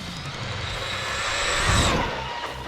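An Arrma Big Rock V3 RC car runs at full throttle on a road, its electric motor whining high and steady with a loud rushing roar that peaks briefly before easing off.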